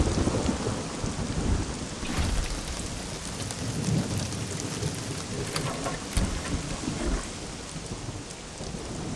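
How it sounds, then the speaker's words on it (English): Torrential monsoon downpour with thunder over Assam, a dense steady roar of heavy rain with low rumbling thunder rolling through and a few sharper cracks, close and loud throughout with no voices. "A torrential downpour resulted in massive flooding across Assam."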